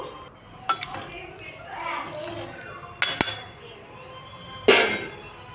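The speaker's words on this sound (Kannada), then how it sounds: "ಈಗ ನಾನು ಮಡಿಕೆಯಲ್ಲಿ ಮಸಿತಾ ಇದ್ದೀನಿ" Cooked dal being mashed in a clay pot with a hand masher, giving a few sharp knocks against the pot at uneven intervals with soft scraping in between, close up, with quiet voices in the background.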